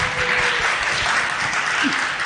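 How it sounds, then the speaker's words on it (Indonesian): Audience applause at a startup founder campus event, a steady dense wash of clapping filling the whole stretch, fairly loud and without pause. "Tepuk tangan dulu dong."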